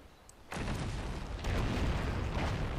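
Enemy cannon fire at ships in Anno 1404, a sudden heavy boom breaking a quiet start, then a second blast swelling into a sustained rumbling roar that lingers loud to the end.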